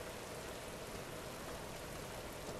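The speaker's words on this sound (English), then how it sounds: "It's raining." Steady rain falls in The Last of Us Remastered, a dense, even hiss that holds at the same level throughout with no voices.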